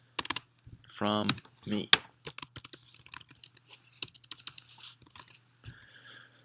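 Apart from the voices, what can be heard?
typing a message on a computer keyboard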